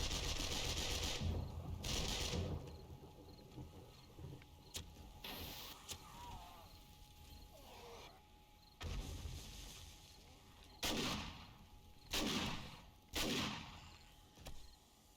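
Sledgehammer turrets pounding zombies at a horde base in the video game 7 Days to Die, a series of loud, sharp whacking bursts spaced irregularly over a low mechanical background, with quieter stretches between impacts.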